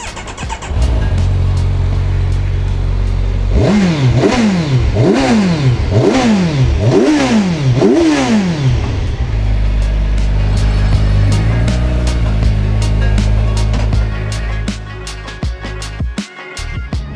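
A Kawasaki Ninja 1000SX motorcycle engine runs loud and close, revving repeatedly in a series of rising and falling bursts before settling back to a steady idle.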